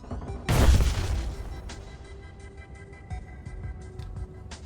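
Explosions in the video game Star Wars: The Old Republic: one loud booming blast followed by fainter rumbling pops and crackles, moderately distant, with no voices.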